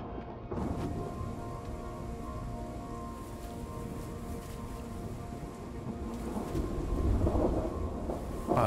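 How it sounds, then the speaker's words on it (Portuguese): Thunder rumbles continuously in the Arise: A Simple Story video game, a deep rolling storm with rain, swelling louder near the end. "duas vezes o trovão vai"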